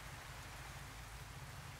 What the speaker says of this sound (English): Nighttime heavy rain.